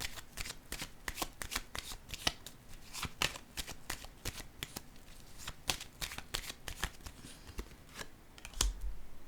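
Playing cards are laid down and shuffled on a table in a quick string of crisp, close flicks and snaps. The sound is quiet, with a soft bump near the end and no talk.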